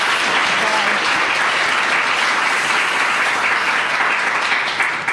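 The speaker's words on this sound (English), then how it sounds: "Please give them a warm round of applause." An evening audience at a panel event with an author, a cartoonist and a writer breaks into warm, sustained applause, dense and loud throughout, with many hands clapping together.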